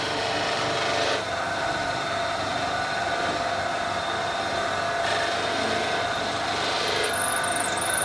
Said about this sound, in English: And do a couple of peeling cuts all the way from the rim.